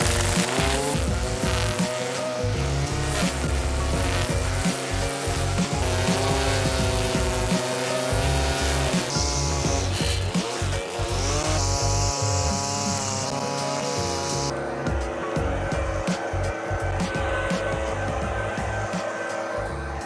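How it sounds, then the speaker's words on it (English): An Atom lawn edger fitted with a brush cutter guard runs continuously while cutting lawn edges, a loud, steady engine whine that shifts in pitch as it bites into turf, with no talking. "So that was the Atom edger that we used."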